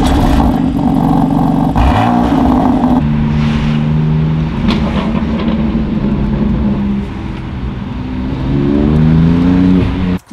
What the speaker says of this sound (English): the loudness of the exhaust system